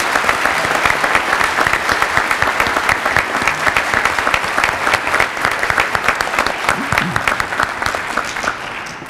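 A crowd applauds steadily at a military commitment ceremony honouring students, dense clapping sustained loudly throughout without a break.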